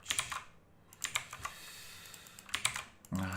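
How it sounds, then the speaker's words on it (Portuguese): Rapid clattering keystrokes on a new rainbow-lit computer keyboard, close and fairly quiet, coming in uneven bursts with brief pauses, ending with a heavier thump. "Adaptando o teclado novo layout."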